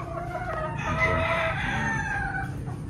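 Broodcock roosters kept for breeding crow, with one long, loud cock-a-doodle-doo up close over faint clucking and farmyard background.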